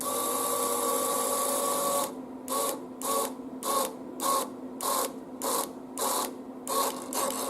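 A BadlanzHPE electric exhaust cutout motor whirs steadily, then gives a rapid series of about eight sharp mechanical clicks in an even rhythm, close and alone.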